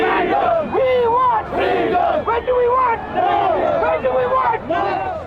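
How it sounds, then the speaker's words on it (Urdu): Sikh protesters at a rally carrying Khalistan flags chant freedom slogans in loud, rhythmic call-and-response waves, voices rising and falling in repeated surging phrases close by. "سکھ مظاہرین خالصتان کا پرچم تھامے آزادی کے نعرے لگاتے رہے۔"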